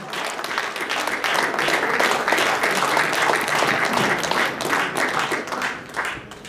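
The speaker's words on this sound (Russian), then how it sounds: "Ваши аплодисменты." Concert audience applauding a singer as he takes the stage, a sustained broad wash of many hands clapping that builds and holds, then thins out near the end.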